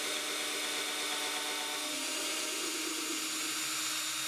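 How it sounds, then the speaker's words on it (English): A power drill bores slowly through the wooden neck block of an archtop guitar, giving a steady, close grinding whir that holds evenly throughout with no talk over it. "we're going to drill through here very carefully all the way through the neck block"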